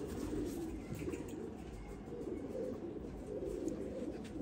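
Pigeons of the Saleti Kamanghar breed cooing in a steady, continuous low murmur, fairly close, with no clear pauses over a faint background hiss.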